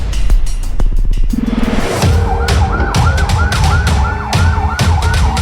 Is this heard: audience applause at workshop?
no